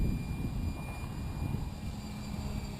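A Logo 600 RC helicopter runs at low head speed, giving a steady, close, low whirring drone from its rotor and motor with no breaks and no talk.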